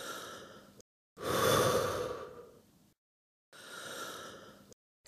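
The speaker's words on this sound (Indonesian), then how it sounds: "Lalu tarik napas dalam-dalam dan hembuskan." A person takes a deep breath in and exhales as part of a breathing exercise for clearing phlegm, heard as two long airy breath sounds separated by short silences, close and clear.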